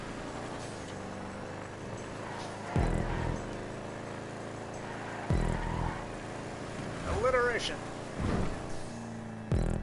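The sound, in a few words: car engine of the Click in a Rockstar video game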